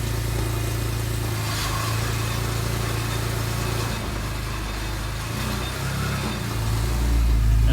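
A BMW E46 M3 with an SMG gearbox runs steadily in first gear, its engine giving a continuous low, close rumble that swells slightly louder near the end, with no talk over it.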